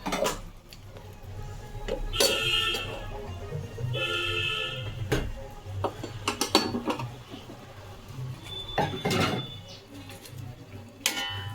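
Fish being added to a simmering pot of curry with taro, with clinks and knocks of utensils and cookware, then the lid set back on, a series of short metallic clatters over a low kitchen hum.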